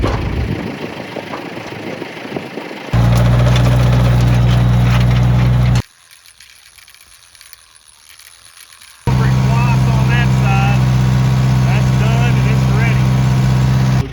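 A tractor fitted with a tiller runs in a field being prepared for corn and soybeans. The engine drones loud and low in two long stretches, separated by a brief quieter gap.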